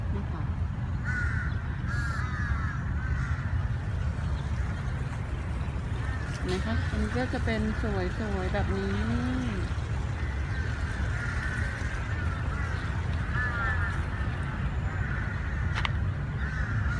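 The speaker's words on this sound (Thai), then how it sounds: "ช่วงนี้ก็จะมีเสียงอีกานะคะ เพราะว่าเขาก็จะมาเล่นน้ำ" Several crows caw from a distance in repeated harsh bursts at Lumpini Park, Bangkok, while someone talks quietly over outdoor ambience.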